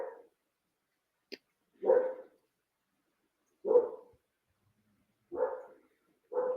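Kai the dog barks upstairs, somewhat muffled and distant, with four separate single barks spaced a couple of seconds apart in a quiet room and a faint click between them.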